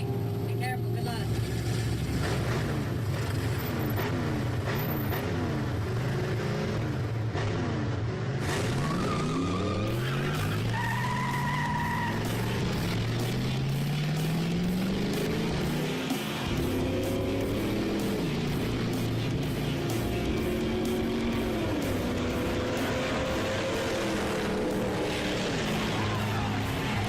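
A race car makes a run down a drag track, its loud engine climbing through rising and falling pitch sweeps as it accelerates, with tire noise and crowd roar constant throughout.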